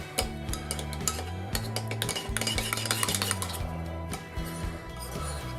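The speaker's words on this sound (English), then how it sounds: "We're going to give this a good mix." A spoon stirs crab salad seasoned with sea salt, lime and Calvados in a bowl, producing quick, busy clinks and scraping against the dish, close and steady throughout, with no speech.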